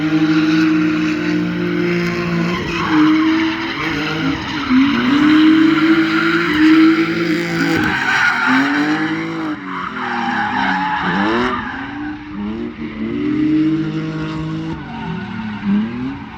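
A car drifts at a drift day event. Its engine revs rise and fall in long sweeping wails, and tire squeal and skidding run close and loud through the whole stretch, with no speech.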